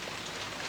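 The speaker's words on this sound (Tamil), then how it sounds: "மழை எப்படி பெய்யுது பாத்தியா?" Steady rain falls in a soft, even hiss across the whole moment, with a sudden louder knock or splash right at the end and no talking.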